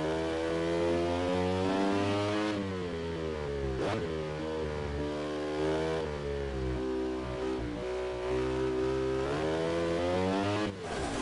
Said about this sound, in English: I gave it too much gas coming out of the corner and I popped a wheelie.